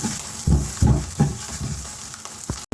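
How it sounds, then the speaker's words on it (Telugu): Green chillies and ginger garlic paste fry in a pan for a raw banana tamarind curry, sizzling steadily with several louder bursts as ingredients hit the hot oil and get stirred. "అవి వేగుతున్నాయి కదా, ఇప్పుడు అల్లం వెల్లుల్లి పేస్ట్ వేస్తున్నాను"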